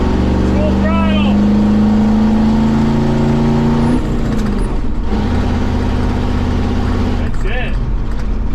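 A Chevy K30 4x4 rollback truck's engine roars steadily and close up at full throttle, its pitch holding high, then dipping briefly and climbing again, with a voice faintly under the noise.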